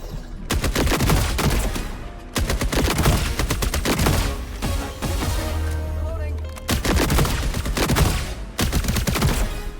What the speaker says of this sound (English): the guns sound very nice and have great feedback